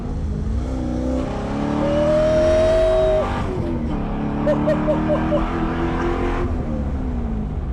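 An LS-engined widebody Porsche 911 revs up and drops back through several gear changes, loud and close, with a faint voice underneath.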